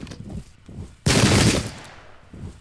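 A rattling volley of rifle gunfire bursts out in video game combat against charging Zulu warriors at the Battle of Ulundi, a sharp, loud crackle that decays over about a second, with murmured voices and battle noise before and after.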